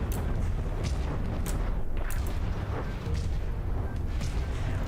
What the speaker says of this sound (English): Bam, more cram explosions.